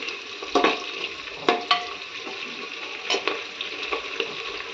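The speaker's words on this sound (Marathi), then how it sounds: "हिरव्या मिरच्या टाकून घ्यायचे हिरव्या मिरच्या चांगल्या तेलात परतून घ्यायचे" Green chillies tossed into hot oil over browned onions for chicken biryani, sizzling steadily at close range with a few sharp crackling bursts and stirring clatters, no voices.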